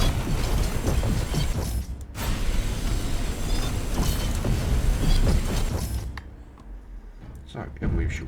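Cutting tool grinding down large blocks in the survival game Space Engineers 2, a steady, loud mechanical grinding and ratcheting drone that runs almost continuously, with a short break and a drop near the end.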